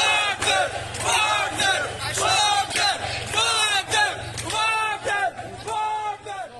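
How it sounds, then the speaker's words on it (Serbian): Crowd of citizens in Rostov cheers and chants in loud rhythmic bursts as Wagner troops depart, voices rising and falling near and dense, with clapping mixed underneath. "Odlazak vojske Wagnera građani Rostova su ispratili uz veliki aplauz te skandiranje"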